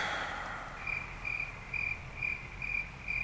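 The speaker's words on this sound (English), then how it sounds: "I'm adding crickets right there." Crickets chirp in short regular pulses, about two per second, steady and fairly faint over a soft background hiss, with no voices.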